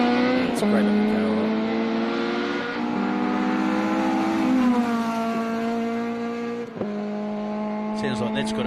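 A rally car with a close-ratio TRD gearbox runs a special stage at Rally Otago in New Zealand, its engine holding a steady, buzzing drone that drops and climbs through several quick gear changes.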